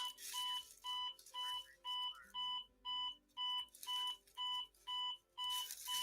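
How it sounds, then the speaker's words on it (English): An alarm clock rings in repeated bursts of bright electronic beeping, roughly one per half second, steady and fairly clear, with no talking. "that stupid alarm"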